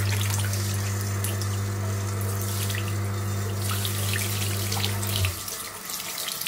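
Water runs steadily from a newly plumbed en-suite tap, a loud, continuous rush with a low hum beneath it, then cuts off abruptly near the end, leaving a quieter tail.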